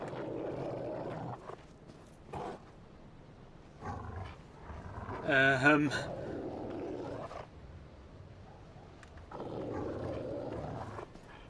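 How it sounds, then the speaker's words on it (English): A monster in Dark Souls 3 lets out a rough, growling howl that rises to a loud peak midway, surrounded by low rumbling ambience and fainter growls before and after. "Oh crap, he just howled."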